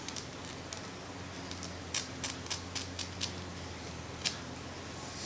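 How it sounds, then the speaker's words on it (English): Scissors snip through a synthetic hair wig in a series of sharp, irregular clicks, several close together in the middle and one more near the end, heard alone over a low steady room hum. "I'm going to cut my own hair and cut the wig off."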